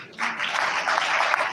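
A brief, dense wash of audience applause at a university reward and recognition ceremony, loud and close, rising quickly and holding steady.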